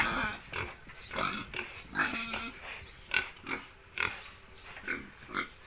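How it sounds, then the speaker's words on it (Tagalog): Pigs grunt repeatedly in short, rough bursts at a steady pace, fairly close, with farmyard noise in the background. "Yun ang mga baboy."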